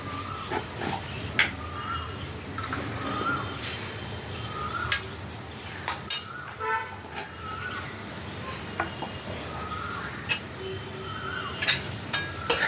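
A spoon stirs ghee through cooked grated cucumber in a pan on a gas stove, a Bengali cucumber ghonto, giving scattered light clinks and scrapes against the metal over a steady low kitchen hum.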